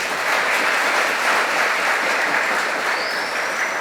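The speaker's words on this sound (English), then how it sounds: "Give yourself a round of applause." A full room applauds the Guyana Defense Force. The clapping is dense, steady and fairly loud, and it holds evenly for nearly four seconds with no talk over it.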